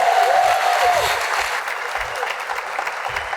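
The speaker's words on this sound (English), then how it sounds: "give a loud round of applause for Mayor Bibb and Mayor Lucas" Loud audience applause as two mayors come on stage at a public discussion event; dense, continuous clapping from a crowd with a whistle at the start and cheering mixed in, tapering slightly over a few seconds.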